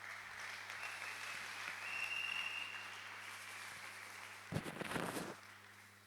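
A church congregation at a French-speaking service bursts into a short, loud round of applause for God, lasting under a second against a quiet room hum.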